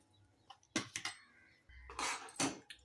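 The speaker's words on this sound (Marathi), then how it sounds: "तर आता आपण शेंगदाण्याचा कूट घालूया" Ground peanut powder is added to jaggery syrup for sesame ladoos: a few sharp metal clinks and scrapes of a spoon against the pot, close and fairly loud, with a soft shuffling rustle between them and no talking.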